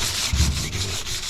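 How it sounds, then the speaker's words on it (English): Sandpaper rubbing off the paint top coating from wood, a steady close scraping that swells slightly and continues without pause for about a second and a half, with no voices. "So I'm gonna sand off the top coating"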